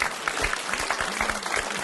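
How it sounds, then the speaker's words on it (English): An audience at a comedic Marvel versus DC fandom debate bursts into brief, loud applause, a dense crackle of clapping with a few louder hand strikes standing out. "A round of applause to you."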